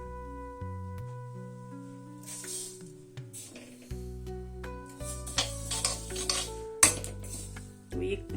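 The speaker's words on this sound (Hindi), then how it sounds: "इनको बिना तेल के सूखी कढ़ाई में इनको भूनती हूँ।" Sesame seeds dry-roasted in an iron kadhai with no oil, stirred with a metal spoon that clinks and scrapes the pan, heard in bursts under steady background music.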